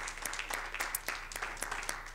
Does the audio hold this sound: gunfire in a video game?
no